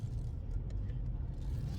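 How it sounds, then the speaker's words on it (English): A truck driving alongside on the road, heard from inside a vehicle as a steady low rumble of road and engine noise with no clear pass-by or talk. "Got a truck next to me."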